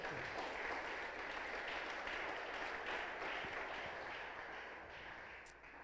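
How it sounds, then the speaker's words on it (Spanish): A church congregation applauds steadily during a service, a continuous, even wash of clapping heard from some distance with no voices over it. "Más fuerte el aplauso al Rey de Reyes."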